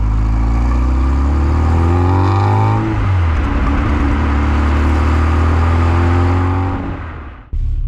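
Mini John Cooper S Sport 5 engine and exhaust revving loudly up through the gears, a rising and falling drone with a shift dip near the middle, then cutting off abruptly at the end; no talking.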